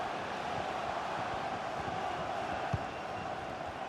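A stadium crowd in the FIFA 23 football video game, heard as a steady, dense roar of massed voices that holds at an even level throughout with a single brief thump partway in.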